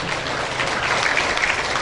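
An audience applauds children at an education and culture festival, a short burst of continuous, even clapping at moderate loudness.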